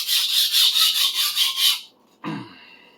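Steel edge of a Minamito 250mm sujihiki knife rasping rhythmically across a whetstone in even strokes for nearly two seconds, then a pause and one short scraping stroke, close and fairly loud.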